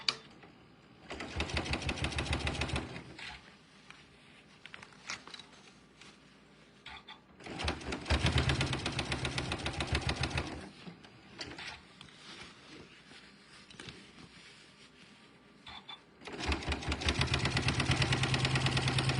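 A domestic sewing machine top stitching fabric at a 3.4 stitch length, running in loud sustained bursts of steady mechanical whirring separated by quieter pauses.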